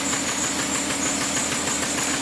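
A Hyundai Sonata engine running with a misfire and exhaust leaks, giving a steady, close, rough drone with an uneven knocking pulse and no voices.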